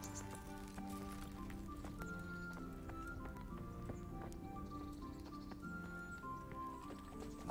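Horse hooves clip-clop steadily in the medieval video game Kingdom Come Deliverance, a soft regular trot with a faint pattering backdrop and quiet music.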